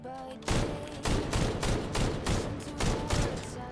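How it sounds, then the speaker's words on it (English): Greg's Reversed Fate gun in The First Descendant video game, firing in short repeated bursts, each a loud close volley of rapid shots separated by brief gaps, with no talk. "we just get that initial fire burst"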